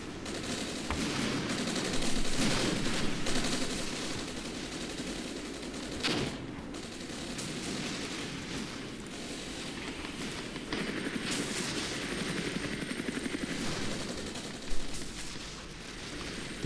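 Gunfire from a modern armored cavalry battle in the war game Armored Brigade, heard as a dense, continuous rattle of distant shots and bursts over steady battle noise, with one louder crack near the end.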